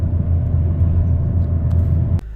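A Ford Mondeo with an engine malfunction rumbles low and steady while driving, a continuous interior drone that cuts off abruptly near the end, with no speech.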